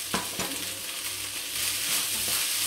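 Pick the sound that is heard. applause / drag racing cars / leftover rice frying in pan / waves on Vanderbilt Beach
leftover rice frying in pan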